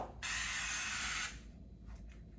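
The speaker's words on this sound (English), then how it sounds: "let me spray this area" A single steady aerosol spray onto skin hisses for about a second, close and loud, then stops. Faint rustling follows.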